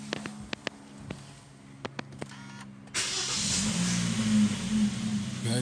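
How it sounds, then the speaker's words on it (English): Engine start of a 2023 Toyota Corolla Cross 1.8 with very low mileage: a few clicks and faint mechanical ticks, then the engine catches and settles into a steady, moderately loud idle hum close by. "Now we're gonna start the vehicle."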